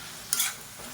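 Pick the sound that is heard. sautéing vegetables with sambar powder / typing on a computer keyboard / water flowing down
sautéing vegetables with sambar powder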